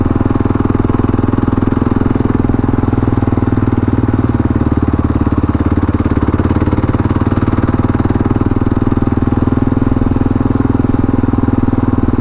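A Kawasaki KLR650 motorcycle holds second gear on a ride from Brisbane to Girraween National Park, its engine giving a steady, loud, close thrum without pauses or talk.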